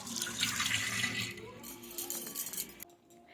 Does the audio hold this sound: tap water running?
yes